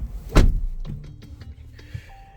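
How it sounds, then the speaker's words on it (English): Door of a 2025 VW ID.Buzz 1st Edition 4Motion swung shut from inside the cabin: one solid, close thump, then a few soft latch clicks and a light electronic chime at the end. "I'm going to go ahead and shut the door."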